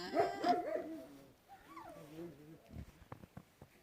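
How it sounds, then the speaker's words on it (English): A dog whines and barks a few times at close range, with some faint clatter afterward. "The dogs are upset."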